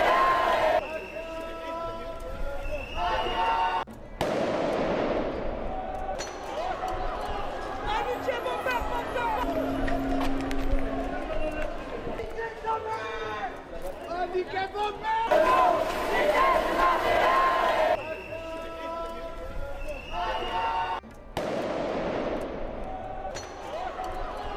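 A rioting crowd clashing with police in the street, loud shouting and chanting voices rising and falling in waves, with sudden bursts of noise and commotion throughout.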